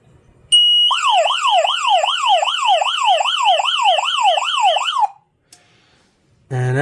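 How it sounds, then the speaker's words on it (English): A home security alarm panel siren sounds after a door sensor is tripped, a loud, rapidly warbling electronic wail that runs steadily for several seconds, then cuts off abruptly, followed by another loud tone. "the alarm panel alarmed"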